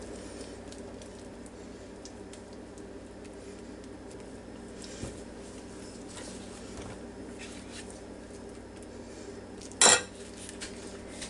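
A utensil stirs a strawberry salad mixture in a dish with soft, continuous scraping and squishing, quiet and close, broken once by a brief sharp clink of metal against the dish near the end.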